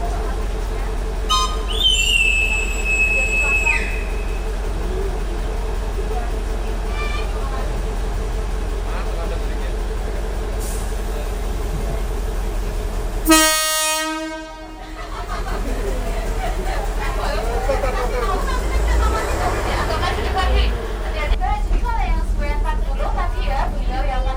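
A historic train at the Ambarawa railway museum in Indonesia creaks slowly out of the station with a steady low rumble, brief high squeals early on and a sharp hissing burst midway, while voices murmur in the background.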